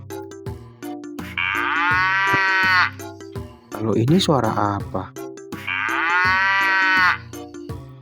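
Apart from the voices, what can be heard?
cow mooing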